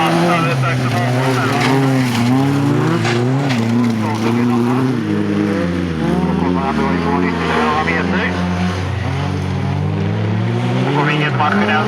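Folkrace cars in Trollhättan roar around the track with engines revving and shifting pitch, loud and close, layered over one another, while a commentator talks over the noise.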